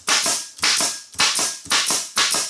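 Five sharp, evenly spaced staple-gun shots into green outdoor carpet, each a loud snapping crack with a short decaying tail, about half a second apart, close up with no talk.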